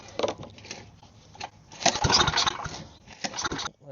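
A small gasoline engine on a go-kart that has sat unused and may need carburetor cleaning is pull-started, with rattling, scraping pulls and sputtering but no sustained running, heard close up without talk.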